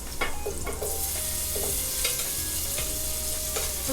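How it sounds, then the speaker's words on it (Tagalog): Tomato sautéing with onion and garlic in a pan, a loud continuous sizzle with scraping stirs and occasional clinks, close up and without talk. "kung ako nagigisa, pinipisa ko siya."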